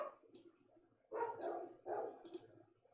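A dog barks in two loud, close bursts a little over a second apart, with quieter yips and whimpers around them over a low background hum.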